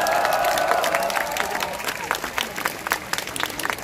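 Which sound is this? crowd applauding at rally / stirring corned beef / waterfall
crowd applauding at rally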